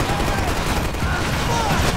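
A MAC submachine gun fires in the video game Max Payne 3, a loud, dense, unbroken burst of rapid gunfire that fills the whole moment.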